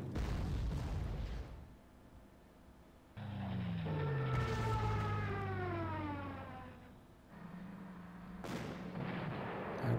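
Artillery fire in the Panzer Corps strategy game: a rough blast at the start, then a rising and falling siren-like whine, with more bursts near the end and no voices.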